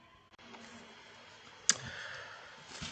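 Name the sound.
click tapping the AI Master App Designer app icon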